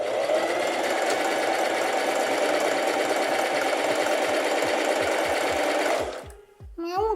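A Singer Facilita Pro 4423 sewing machine runs a simple zigzag stitch in a steady, loud mechanical whir with rhythmic needle ticking for about six seconds, then slows and stops.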